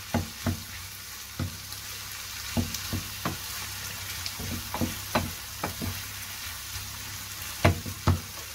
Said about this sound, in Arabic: دابا غادي نخلط كوش